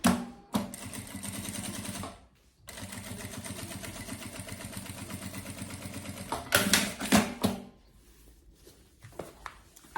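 A sewing machine stitches a travel carry-on bag in a fast, steady mechanical rattle, close and loud, with a brief pause, then more stitching and handling of the fabric, and soft clicks near the end.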